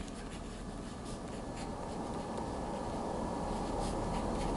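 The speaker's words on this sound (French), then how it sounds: "On va l'écrire." A pen scratches quietly and continuously across paper as something is written down, soft, close and steady throughout without any voices.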